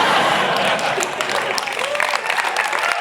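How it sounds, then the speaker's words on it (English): Audience applause at the XOXO Festival for a writer on stage, dense steady clapping heard alone over a few seconds. "I appreciate the applause"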